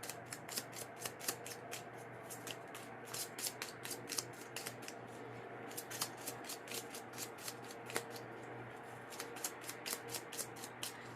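A deck of playing cards being shuffled up close, with repeated crisp riffling bursts in a steady rhythm over a low background hum, no talking.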